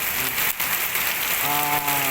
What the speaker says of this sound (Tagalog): Ganyan kalakas po yung ulan mga lodi, oh.